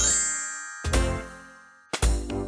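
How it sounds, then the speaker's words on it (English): A tiny bell on a dog's collar in a children's animal puzzle game gives bright, chiming tones, with two ringing strikes that sustain and decay cleanly against a quiet background. "what a cute collar with a tiny bell."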